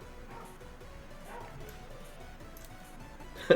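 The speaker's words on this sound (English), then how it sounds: "Can you hear Aston barking his nuts off" A dog barks and yips faintly in the background, somewhat distant, over a low room hum, with a sharp knock right at the end.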